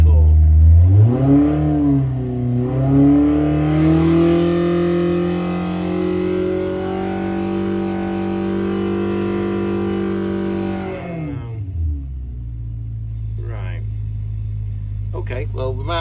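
A 1200 engine revs hard on a dyno, rising and holding a loud, steady wail for about ten seconds before dropping back to a lower idle drone, with brief talk near the end.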